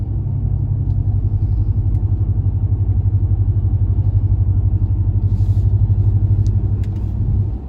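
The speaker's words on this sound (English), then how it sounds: "Right now you can hear the MDS kicking in the truck." Steady low engine rumble from a RAM Rebel pickup with its muffler and resonator deleted, driving through melting snow as cylinder deactivation engages, loud and continuous throughout with no talk.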